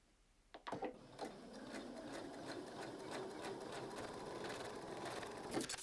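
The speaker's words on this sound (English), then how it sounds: "Then go to the sewing machine and simply sew 1/4 of an inch down one seam only." A sewing machine stitches a quarter-inch seam in fabric squares, its rapid needle ticking steady and close after a few sharp starting clicks, running alone with no talk.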